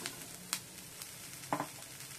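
Corn fries with onion in a pan, a soft, quiet sizzle punctuated by a few sharp crackles and pops, with no voices present.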